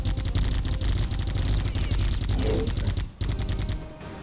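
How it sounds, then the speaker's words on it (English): Rapid sustained automatic gunfire from a weapon in the video game Geist, a dense unbroken stream of loud shots with a brief gap near the end before firing resumes. "I am shooting at nothing."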